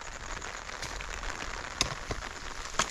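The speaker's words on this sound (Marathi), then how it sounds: "पाऊस यायला लागला" Steady light rain patters on paper, with a few sharper drops ticking out now and then.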